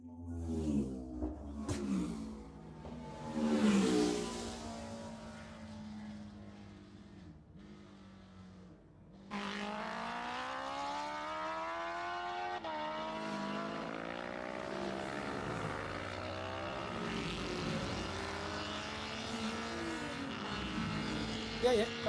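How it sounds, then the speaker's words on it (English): A 1998 Honda CB500 motorcycle races on the Armoy Road Races course. Its engine note rises and shifts as it approaches, then settles into a sustained, buzzing roar that holds steady to the end. "1998, that Honda CB500,"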